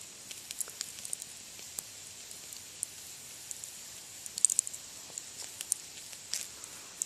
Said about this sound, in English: And if you can listen, it is cooking.